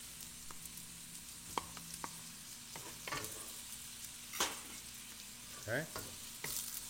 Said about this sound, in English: We'll make the we'll cook the shrimp probably for 3 minutes until it becomes golden brown.